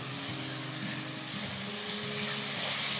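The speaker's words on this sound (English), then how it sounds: "So I'm just going to stir it for a few minutes." A peanut and coconut jollof rice mixture is stirred in a pot, giving a steady close frying sizzle with light scraping strokes and no speech.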